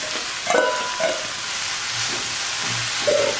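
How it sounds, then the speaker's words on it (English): Spinach leaves being added to a hot pan and frying, a steady sizzle with a few louder bursts of crackle and stirring scrapes, close and without talk. "Now we add our other spinach."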